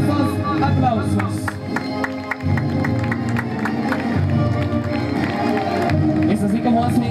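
Sustained applause from a crowd at the opening of a 2018 school band festival, steady and fairly loud throughout, mixed with crowd noise and cheering.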